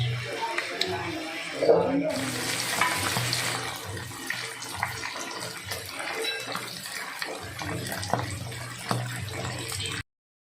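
Chicharon pork rinds frying in hot oil in a home kitchen, a steady broadband crackle and sizzle running close and continuous under a low hum for about ten seconds before cutting off.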